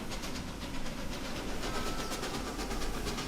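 A Chesapeake and Ohio 2705 steam locomotive in Transport Fever 2 gives off a continuous loud hiss with rhythmic chuffing pulses and rail clatter, no talking.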